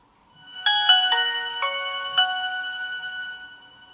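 A Nokia 1110i mobile phone plays one of its original ringtones, a clear electronic melody of several bright, distinct tones that ring out and sustain, loud and alone.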